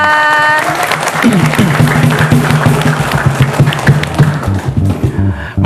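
Audience applause for a correct answer at a high school quick-answer quiz contest, a dense burst of clapping with a sustained musical tone running beneath it, continuous and fairly loud.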